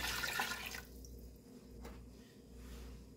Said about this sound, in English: I'm going to add 6 cups of water.